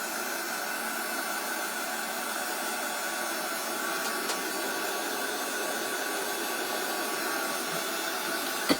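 A hair dryer runs continuously on a bee and ladybug craft, giving a steady, fairly faint whooshing hiss with no talking.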